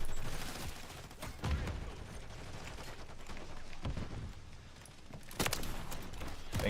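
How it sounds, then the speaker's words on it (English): Video-game gunfire rattles in bursts of shots, dense and fairly loud, with a couple of sharper volleys standing out across the stretch and no talking over it. "I'm shooting them."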